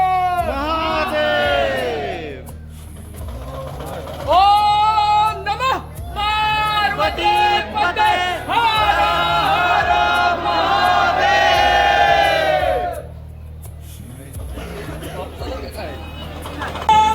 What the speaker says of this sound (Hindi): चारों तरफ जनसैलाब उमड़ा हुआ है। पैर रखने तक की जगह नहीं है।